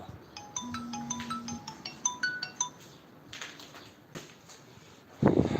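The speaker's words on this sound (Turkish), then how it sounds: "Neyse telefon çalıyor." A phone rings with a repeating electronic melody of quick bright tones, then a brief loud rustle or thump at the end.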